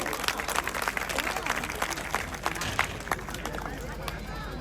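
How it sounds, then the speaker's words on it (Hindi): At a Lodhi Kshatriya community annual block-level convention in Kumbhraj, the crowd applauds the organisers with dense, quiet, distant clapping. Voices and crowd murmur run through it. "एक बार आयोजकों के लिए जोरदार ताली बजाइए।"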